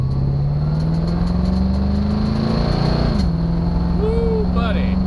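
A 1977 Camaro with a two-barrel engine accelerates, its loud in-cabin engine drone climbing steadily in pitch, easing briefly as it shifts, then pulling again; a voice briefly speaks near the end.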